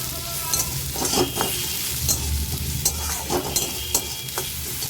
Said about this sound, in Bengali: আদাটা একটু ভেজে নিচ্ছি যাতে আদার কাঁচা গন্ধটা চলে যায়।